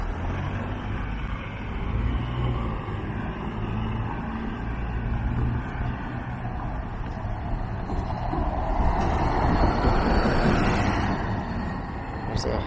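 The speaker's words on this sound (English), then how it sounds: "There's a hybrid electric bus." Hybrid electric bus on College Street in Toronto, a broad rumble of traffic that swells as the vehicle passes close, with someone talking over the street noise.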